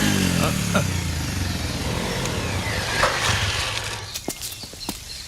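A motorcycle rides along with a steady engine rumble and road noise, close and moderately loud, fading toward the end while faint clicks and bumps sound over it.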